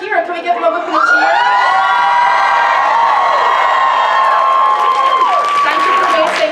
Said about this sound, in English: They're actually here. Can we give them a whip and a cheer?